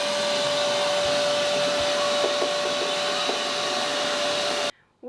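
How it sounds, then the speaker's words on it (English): A household vacuum cleaner runs steadily and loudly at close range with a constant whine, cutting off abruptly near the end. "We have vacuum cleaned all around, so we can put the baton in."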